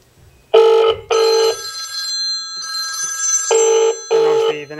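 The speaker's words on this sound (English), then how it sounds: "obviously the next phone starts to ring" A phone dialed by an Advent Controls GSM door entry intercom rings loudly and close by, producing several electronic ring bursts in a steady double-ring pattern with brief pauses between them.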